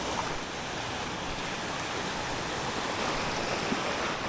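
Choppy sea surf rolls in steadily on a shoreline at dawn, a continuous broadband wash of breaking waves mixed with wind buffeting the microphone, with no voices.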